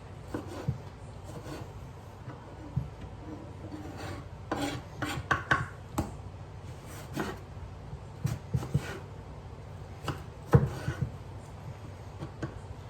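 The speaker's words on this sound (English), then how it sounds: "We're gonna cut it up because we want it nice and small pieces." Knife cutting shrimp into small pieces, a steady series of soft rasping, scraping strokes on a board with occasional sharper taps, close and quiet.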